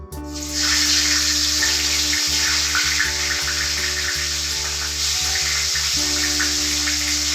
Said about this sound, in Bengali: মাছের মাথাটা কিন্তু একটু আমি কড়া করে ভেজে নেব